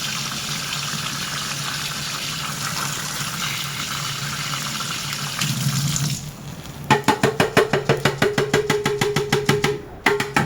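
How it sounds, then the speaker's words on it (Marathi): Dried jawla shrimp are washed in water, with a steady gushing and sloshing for about six seconds followed by quick rhythmic splashy agitation as the tiny shrimp are swirled and rinsed by hand. "हे आता आपण जवलेला धुवून घेऊ."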